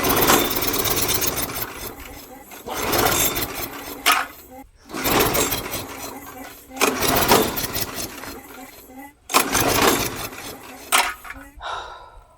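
A lawn mower engine with no compression is cranked over and over without starting. Five rough, loud pull-cranking bursts of about two seconds each are broken by brief pauses.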